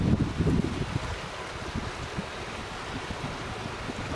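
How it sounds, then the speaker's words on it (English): A mountain creek runs steadily outdoors on a chilly day, a constant rushing wash of water with some wind buffeting the microphone early on, and no talking. "can you hear the creek running?"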